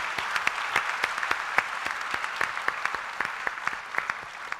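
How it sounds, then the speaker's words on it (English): Applause from a large audience at a youth conference for the panelists, close and lively, with many hands clapping and distinct individual claps popping out in a brisk, uneven rhythm throughout. "let's have a very big round of applause for the panelists"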